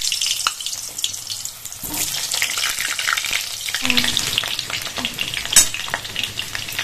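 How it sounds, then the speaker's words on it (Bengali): Potatoes frying in hot oil give off a loud, close, continuous sizzle, with crackling bursts and a few sharper spatters and clinks from the pan. "তেল গরম হয়ে গেছে, আলুগুলো দিয়ে দেব।"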